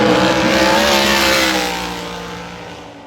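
A race car on a qualifying lap at Montgomery roars past at full throttle, its loud engine note strong at first and then fading as it pulls away.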